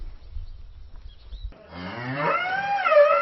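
A cow bellows when ready to mate, a loud, drawn-out moo that starts low and rises into a strained, wavering call after a second and a half of quiet rumble, with no voices.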